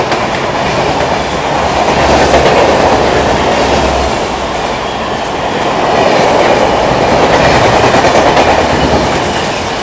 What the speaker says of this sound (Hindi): 12562 न्यू दिल्ली जयनगर स्वतंत्रता सेनानी एक्सप्रेस।